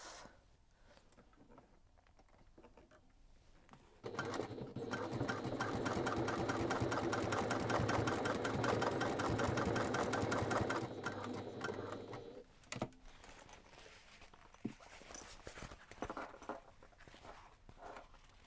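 Sewing machine stitching basting seams along the edges of a backpack, a fast steady mechanical whir held for about eight seconds, framed by quieter handling clicks and fabric rustle.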